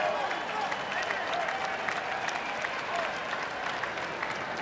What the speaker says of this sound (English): Crowd really rising to the effort here from Andy Murray